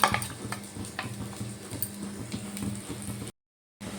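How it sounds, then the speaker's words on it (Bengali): Yogurt and flour whisked in a bowl for a ridge gourd curry, giving a steady run of scraping, clinking strokes with a rhythmic low rattle, fairly close, briefly cutting out near the end. "এবার একটু ভালো করে ফেটিয়ে নিতে হবে এইভাবে"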